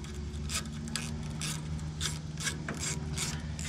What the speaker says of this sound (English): Take these bolts off so I have a little bit more room.